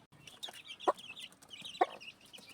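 Chicks clucking inside a pen, with two sharper chirps standing out over a soft, continuous background of fowl calls, fairly close and moderately quiet.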